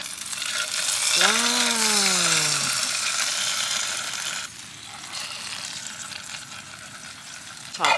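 Mackerel fries in olive oil in a pan at a rainy beach campsite, a loud close sizzle that crackles steadily, with a brief whistling tone early and the sizzle easing slightly partway through.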